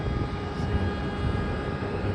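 Jetstar airliner taxiing toward the terminal at night, a steady broadband engine rumble and whine holding even and fairly loud throughout, with no voices.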